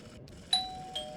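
A doorbell in a video game chimes twice, a bright ding followed about half a second later by a second softer ring, each tone lingering over a quiet background.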